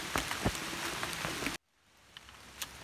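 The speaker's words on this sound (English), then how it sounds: "It is starting to rain pretty good now though." Rain falls steadily on a forest hiking trail in autumn, a dense close patter with scattered louder drops. It cuts out abruptly, then returns fainter.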